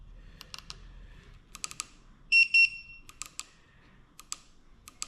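A Segway ZT3 Pro electric scooter gives two short, clear electronic beeps in quick succession, amid scattered clicks and taps in a quiet room.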